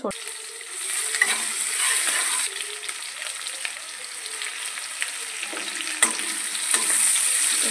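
Vegetables fry in hot oil in a kadai with a loud, continuous sizzle, broken by occasional stirring scrapes and clinks.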